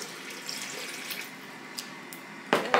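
Two cups of plain water pour into a blender with a soft, steady trickle and splash, close by and fairly quiet, ending in a brief louder rush near the finish.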